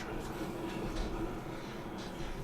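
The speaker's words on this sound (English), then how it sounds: "That's a train." A train rumbling past at a distance during a Cyberpunk tabletop session, a steady low roar with faint rhythmic clatter, under soft background chatter.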